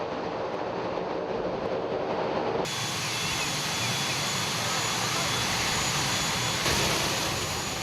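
A jet airplane landing on the short runway at Funafuti, Tuvalu, produces a loud, continuous engine roar that fills the whole stretch, steady and close with no letup.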